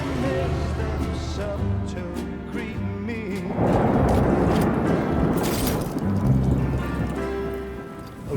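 Rain falls in the video game Death Stranding 2: On the Beach, a dense, steady hiss that swells partway through, mixed with tonal game sounds and music.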